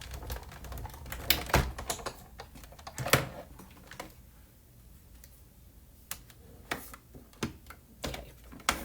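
A hand-cranked die cutting machine presses a 3D embossing folder through for card making, giving a close series of sharp clicks and clacks with uneven rhythm, louder bursts early on, then scattered ticks.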